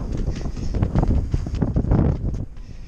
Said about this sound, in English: We're going to go outside now where it's really windy.